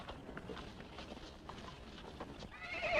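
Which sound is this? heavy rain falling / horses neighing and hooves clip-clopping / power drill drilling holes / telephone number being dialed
horses neighing and hooves clip-clopping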